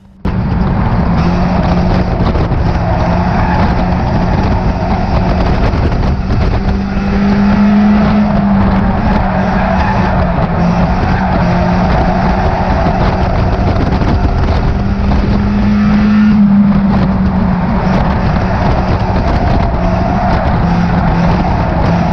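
Stock cars race at Cowdenbeath Racewall oval, engines roaring loudly and continuously with repeated surges and revving as cars pass close by, a dense mechanical din throughout with no talk.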